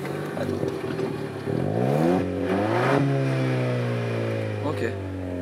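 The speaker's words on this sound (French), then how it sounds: "Comme ça on va entendre la voiture" A Renault Clio 4 GT sits in neutral as its engine revs up in rising and falling sweeps, then settles into a steady idle, heard up close with people talking over it.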